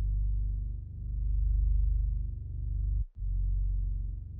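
Bass notes played in an FL Studio beat with no effects, a deep, sustained low tone holding steady for several seconds, briefly cutting out near the end before resuming, with no other instruments or voices.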